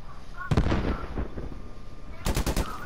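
Video game gunfire aimed at the player, bursts of rapid automatic shots near the start and again near the end, close and loud over a steady game background.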